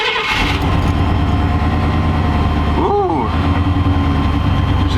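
A 1995 Chevy engine cranks and fires after the battery's negative terminal is reconnected, then settles into a steady loud idle with a brief rising whine partway through.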